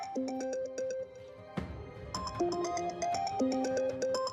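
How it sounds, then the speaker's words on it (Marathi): A melodic phone ringtone plays a repeating electronic tune, pausing briefly before a sharp burst of noise, then the melody resumes, steady and fairly close. "तुझा फोन वाजतोय."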